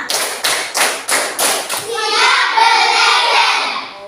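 Pupils in a classroom beat out a rhythmic pattern of six evenly spaced unison claps, loud and close, before breaking into a group chant of children's voices.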